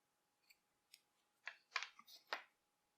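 Scissors snip through crochet yarn in a handful of separate crisp cuts, quiet at first and then a louder cluster of close clicks and snips, set in a silent room.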